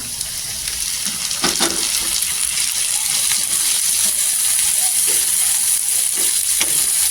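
Tomato and chopped garlic frying in hot oil for a village-style Maharashtrian dried-fish sukat, a steady loud sizzle running throughout with occasional soft clinks and stirring scrapes, no voices.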